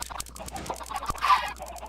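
Minecraft chickens clucking in quick succession, a short busy burst of game fowl sounds close up with no talking.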